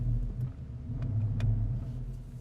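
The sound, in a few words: Porsche Panamera Turbo 4.8-liter twin turbo V8 engine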